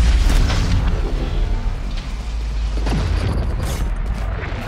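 A heavy booming explosion in Valorant on the Split map with deep low rumble, followed by loud chaotic game effects and a second blast near the end, dense and continuous throughout.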